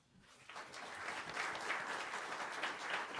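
Audience applause welcoming Professor Courtney Hillebrecht to a political science lecture: after a brief quiet start, a steady, dense crowd of clapping swells and holds at an even level throughout, with no talking over it.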